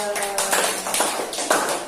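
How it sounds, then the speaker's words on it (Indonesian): Children clap their hands in a classroom, a short burst of fairly close claps alongside a teacher's voice. "Tepuk tangan untuk mereka berdua."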